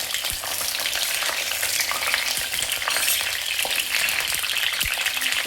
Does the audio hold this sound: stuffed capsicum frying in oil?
yes